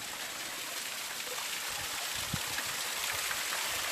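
Mount Wellington spring water runs in a steady, broadband rushing trickle, close and continuous outdoors near Hobart, Tasmania.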